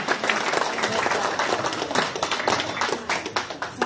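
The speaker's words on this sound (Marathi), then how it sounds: "त्याच्याबद्दल सर्वांनी टाळ्या वाजवा" An audience at a therapy center event claps together, a dense run of hand claps that stays fairly loud and fades slightly toward the end, with voices mixed in underneath.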